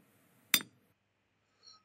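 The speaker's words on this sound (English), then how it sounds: "it says it's an anvil being hit with a sledgehammer" Anvil struck once by a sledgehammer, a single sharp bright metallic clink with a short ringing tail and no reverb, followed by a faint high ring.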